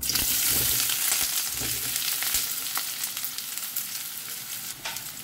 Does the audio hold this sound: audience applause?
no